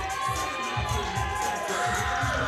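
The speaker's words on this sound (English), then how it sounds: "Let's give a big round of applause for our six ladies." A live audience at a bikini bodybuilding competition cheers and applauds six rookie contestants on stage, producing a steady, dense roar of crowd noise with shouting voices throughout.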